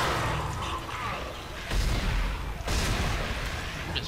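Plasma cutter fire from the Dead Space game on Impossible Mode, shot blind into darkness: two heavy bursts about a second apart stand out over a dense, rumbling low background.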